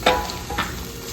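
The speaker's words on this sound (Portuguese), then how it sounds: "Aí eu venho com a carne, que já deu uma curtidinha no tempero. E vou deixar ela fritar." Seasoned meat frying in a pan on the stove, a steady close sizzle with a couple of scraping stirs from a utensil, no talking.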